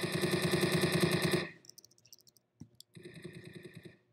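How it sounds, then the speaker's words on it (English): Rapid automatic gunfire from a video game weapon rattles loudly, then cuts off into a quick series of light mechanical clicks and clacks as the gun is reloaded, followed by a second metallic rattling burst. "Look at how satisfying this reload is."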